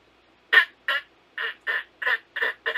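A person's voice, without a duck call, imitates a duck's quack in seven short, evenly spaced squawking bursts, close and fairly loud.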